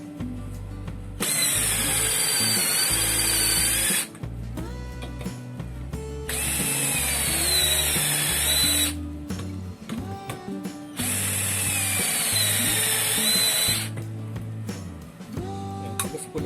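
A Mitsushi cordless drill drives screws in three loud bursts of several seconds each, a high motor whine with a ratcheting clutch rattle, separated by short pauses and clicks of handling.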